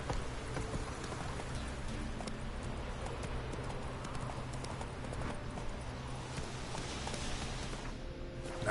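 Geralt's horse Roach in Witcher 3 clip-clops along in a steady hoofbeat rhythm over a constant bed of rain-like ambience, moderately close and fairly quiet, with no talking.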